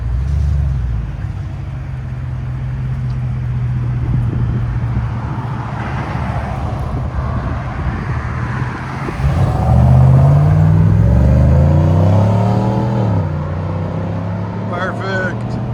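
A 5th-gen Cadillac Escalade's 6.2L V8 idles with a low, throaty exhaust note, then revs up around the middle and settles back. People talk over it.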